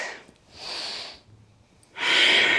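Audible breaths during a Chandra Namaskar yoga sequence: a short exhale, then a longer soft one, a pause, and finally a strong, forceful breath out close to the microphone.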